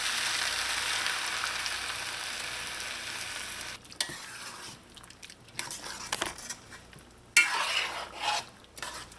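Rice cooking for Trini chicken pelau with red beans gets stirred in a pot as coconut milk goes in: a steady broadband sizzle that drops away midway, followed by intermittent scraping and stirring bursts, with no talk.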